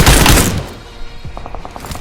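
Gunfire in the BGMI mobile battle royale game as an enemy is knocked down: a loud close volley at first, then a quieter run of rapid evenly spaced shots, with no talk.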